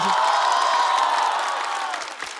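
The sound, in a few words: audience applause for comedian Xiaolu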